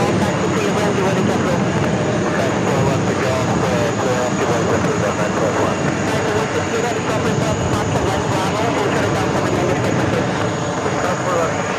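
An airliner flies at JFK airport with a loud, steady roar that continues throughout, with faint voices underneath.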